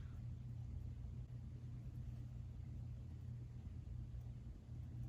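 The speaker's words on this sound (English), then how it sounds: "A garbage truck." A garbage truck rumbles steadily past with a deep, low engine drone, close and continuous throughout.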